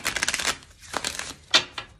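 Oracle cards from a Queen of the Moon deck being shuffled by hand, a dense run of papery riffling clicks followed by a pause, then a few sharper taps and slaps, close and clear with no talk.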